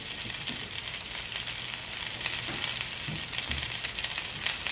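Pork chops searing in a hot cast iron skillet give a loud, steady sizzle with crackling spits and occasional low thumps, close up and continuous, no talking.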